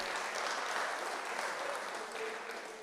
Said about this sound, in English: A round of applause for the panel again.